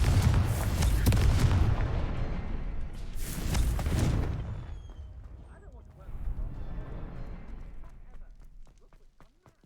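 A Confringo fire spell blasts off in the Hogwarts Legacy video game, with a heavy booming burst followed by a second loud blast, then quieter rumbling and scattered small pops as the effect fades.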